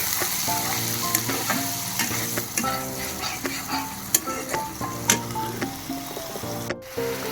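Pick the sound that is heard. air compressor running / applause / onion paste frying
onion paste frying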